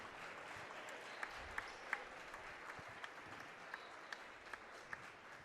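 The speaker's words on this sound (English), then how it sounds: "Jimmy clapping it up for his cousin." Applause from a crowd at a high school basketball championship game, with individual sharp claps standing out over a steady, fairly distant spread of clapping, and faint talk underneath.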